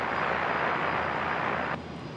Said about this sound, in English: We've got the next heavy taxiing on out. Jetstar 787.